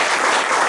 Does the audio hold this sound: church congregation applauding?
yes